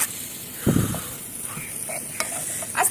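Salt and turmeric being stirred in a tiny miniature cooking pot, a few short scraping bursts of the spoon against a faint sizzling background, close and fairly quiet.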